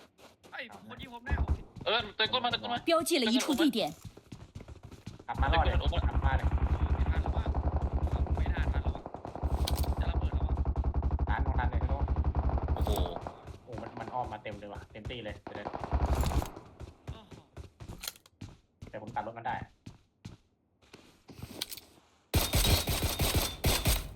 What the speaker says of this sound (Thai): มีคนยิงผมแล้ว